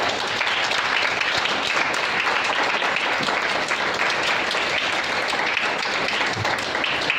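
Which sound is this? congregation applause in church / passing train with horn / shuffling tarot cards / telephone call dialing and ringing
congregation applause in church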